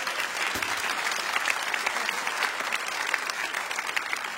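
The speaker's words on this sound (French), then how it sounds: "Applaudissements pour cette nullité" Sustained audience applause, dense and even clapping from a crowd at a live French dictation event, steady throughout with no pauses.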